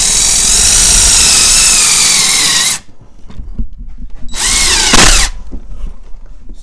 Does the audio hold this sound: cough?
no